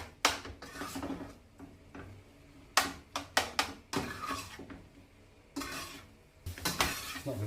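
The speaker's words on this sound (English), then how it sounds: "with this medium heat and continuing to stir fry this beef, it doesn't take long for it to cook" Minced beef stir-fried in a pan over medium heat, with a spatula scraping and knocking in quick bursts over a constant sizzle, close and fairly loud, with no voices.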